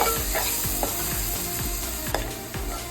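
Lentils for a cabbage dal curry fry in oil with a steady hissing sizzle, punctuated by repeated scraping strokes of a spoon against the pan at an even rhythm.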